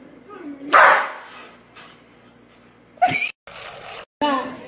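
A dog barks in a few sharp, fairly close bursts in a Dominican Republic setting, with people talking around it.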